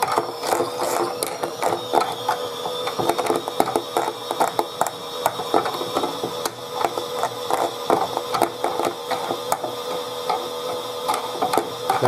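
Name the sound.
Chad Valley pink toy washing machine spinning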